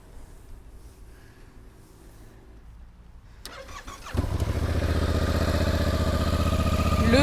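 Yamaha Tracer motorcycle with the CP2 twin engine and stock exhaust starting up: quiet low hum, a click near three and a half seconds, then the engine catches around four seconds into a loud, steady, close idle.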